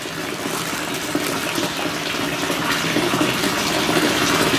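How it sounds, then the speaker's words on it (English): Continuous sloshing and swirling of water, steady and fairly loud, like liquid being stirred or poured in a tank, with no talking. "Slowly mix the water together."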